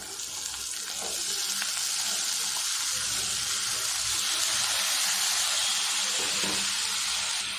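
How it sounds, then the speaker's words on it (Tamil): Cut, peeled potatoes sautéing with masala in a hot pan, giving a steady, loud sizzle and hiss throughout with faint stirring scrapes underneath. "உருளைக்கிழங்க மசாலாவோட மிக்ஸ் பண்ணி விட்டுருங்க"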